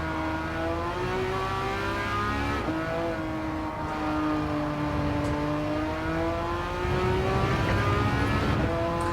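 Race cars in the Gran Turismo 7 video game, including a Porsche 911 Turbo, engines revving steadily with rising and falling pitch as gears shift, loud and continuous throughout with no talk.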